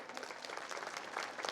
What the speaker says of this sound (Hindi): इस 5 लोगों के लिए जोरदार ताली बजा दीजिए